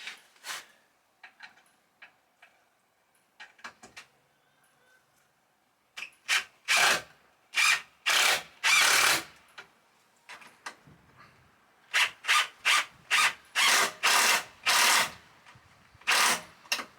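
A drill drives pre-started screws into wood in a series of short, loud bursts of whirring, separated by pauses and quieter handling noises, with a cluster of rapid bursts toward the end.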